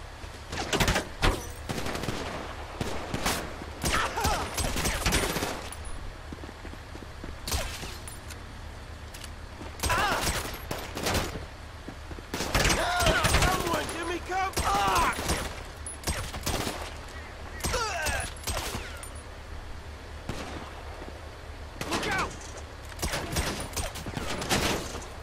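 Gunfire in the video game Grand Theft Auto 5 during the Paleto Bay Score: repeated bursts of rapid shots, loud and close, come in uneven clusters with short quieter gaps between volleys.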